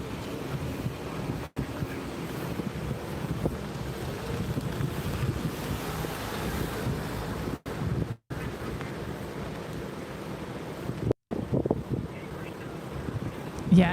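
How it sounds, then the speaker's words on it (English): Steady wind blowing outdoors on a hot day, rushing into the microphone as a continuous loud roar for the whole stretch, with a few brief dropouts. "At least it's windy out there with all that heat."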